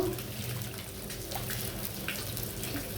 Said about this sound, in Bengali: এই ফাঁকে আমি চালকে ধুয়ে ফেলবো সুন্দর করে।